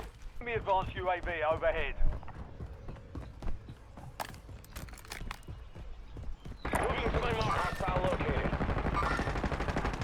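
Gunfire in Call of Duty Warzone, rapid scattered shots and clatter under someone talking, ending in a dense, louder stretch of sustained noise and firing.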